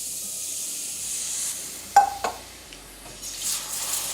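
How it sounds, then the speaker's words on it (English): A cooking flour-and-oil roux sizzles softly, then milk poured into the hot pan makes a brief sharp hiss and splutter before settling back into a gentle frying sizzle. "Now add your milk, small amounts at a time."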